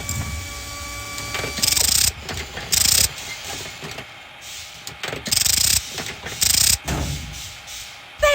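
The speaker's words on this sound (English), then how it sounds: "Time to use the socket wrench again. Now just tighten up that bolt and you'll be done." A socket wrench tightens a bolt in the Tonka Garage video game, giving repeated bursts of rapid mechanical ratcheting clicks separated by short pauses, fairly loud and close with no talking.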